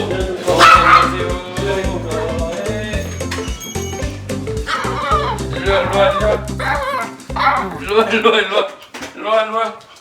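A male rescue dog gives a few barks near the start amid talking voices and background music, then the barking stops while people keep speaking.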